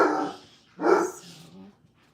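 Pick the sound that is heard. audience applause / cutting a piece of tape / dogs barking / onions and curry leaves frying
dogs barking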